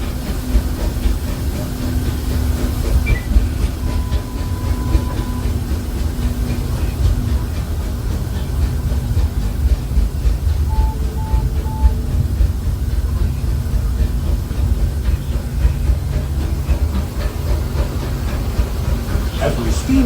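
Disneyland Railroad sweeper train on a Christmas Day excursion, rolling steadily along the track past Hungry Bear Barbecue Jamboree toward the Rivers of America, with a continuous low rumble and clatter, faint hiss and a couple of brief high tones.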